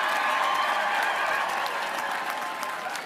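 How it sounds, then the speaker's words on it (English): Steady applause from a large crowd of campaign supporters and volunteers at a gubernatorial acceptance speech, dense and sustained throughout with faint cheering mixed in. "Give yourselves a round of applause."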